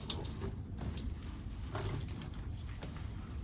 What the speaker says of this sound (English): give it a good water, wash off the pot,